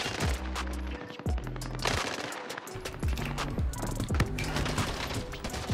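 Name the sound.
M16 rifle gunfire in Warzone video game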